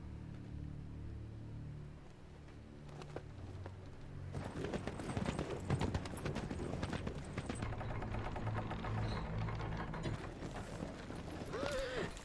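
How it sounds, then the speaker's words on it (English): Horse hooves clip-clopping in a Game of Thrones episode, a quiet opening that gives way to a busy run of clattering hoof beats and rattling tack from about four seconds on, with faint voices and a short high cry near the end. "That's my Uncle Benjamin's horse."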